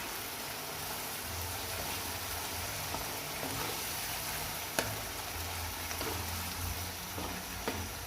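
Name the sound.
boiled chickpeas frying with biryani masala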